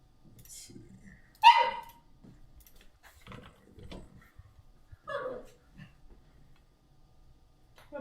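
A puppy barks once loudly near the mic, then a softer yip follows a few seconds later, with quiet indoor background and faint movement between.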